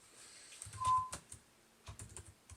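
Sparse keystrokes tap on a Samsung ATIV XE500T keyboard dock, a few quick bursts of close, quiet clicks separated by short pauses, with no voices.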